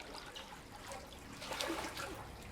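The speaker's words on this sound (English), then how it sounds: "I'm going to just turn one pump on for you, single speed for now." A swim spa pump switched on at single speed, giving a steady rushing, bubbling wash of water that holds at a constant moderate level throughout.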